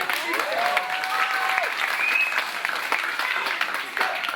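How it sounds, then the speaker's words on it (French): A crowd claps steadily for several seconds, with bright whoops and children's voices rising over the applause. "On peut l'applaudir."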